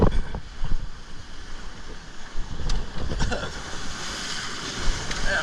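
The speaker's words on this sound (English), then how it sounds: "Daggone waves in the way." Ocean waves wash and surge against a rocky jetty, a steady broadband roar with gusts of wind buffeting the microphone throughout.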